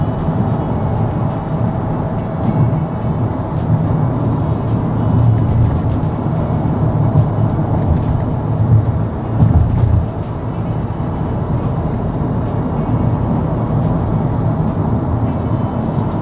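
Steady low road rumble inside a Toyota Innova Zenix cabin cruising at 80 km/h on asphalt, a constant broadband drone with no gaps and no talk.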